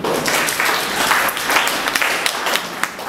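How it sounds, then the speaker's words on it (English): Applause from an audience at a business presentation, a dense, steady wash of many hands clapping that carries on throughout at a fairly loud, even level. "Does it deserve a hand clap?"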